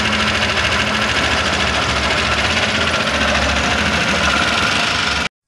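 A 9-seater auto rickshaw's 200cc engine with damaged piston rings runs loud and rough, a dense, continuous rattling drone close by that cuts off abruptly at the end, with no talking.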